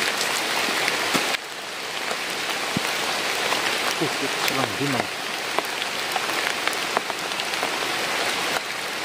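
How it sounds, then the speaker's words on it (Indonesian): Heavy rain pours down steadily, a dense and loud hiss with scattered sharp drop impacts near the listener, while a person briefly speaks under the downpour. "Ini hujannya tambah besar"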